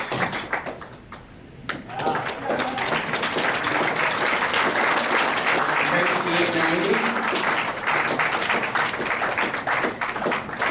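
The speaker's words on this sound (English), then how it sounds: "Another round of applause for the 1981." A dining crowd at a retirement dinner breaks into sustained applause after a brief lull, a dense, loud wash of clapping that carries on to the end.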